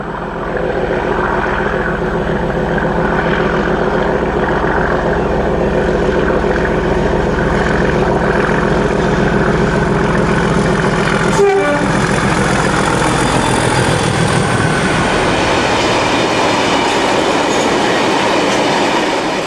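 A British Class 37 diesel locomotive drones and throbs loudly hauling a dead Class 60 and a long oil train past, wheels clacking, with a short horn blast midway.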